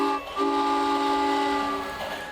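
An electric toy train set runs under a Christmas tree, giving a steady rolling rumble beneath sustained whistle-like tones that waver and fade toward the end; nobody talks.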